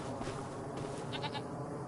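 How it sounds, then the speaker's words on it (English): Several goats bleat faintly in Farming Simulator 25 over a steady background, with a cluster of short, high bleats near the end. "Like, look at all these goats."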